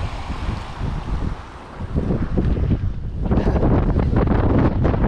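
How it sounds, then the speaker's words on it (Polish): Strong gusting wind buffets the microphone while cycling on spring roads across the Żuławy lowlands, a loud, rough rumble that drops briefly and then swells harder. "Taki wiatr, że nawet windstopper się poddaje."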